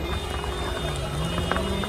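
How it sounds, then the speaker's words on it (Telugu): Heavy rain pours down at Tirumala as a dense, steady hiss that fills the whole moment, loud and close, without a break. "తిరుమలలో భారీ వర్షం పడుతుంది"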